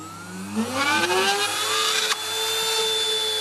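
A Twist A Saw power saw making a plunge cut with no pre-drilling, the motor whining up in pitch as the blade bites in, then a brief clunk and a steady high running tone, close and loud with no talking.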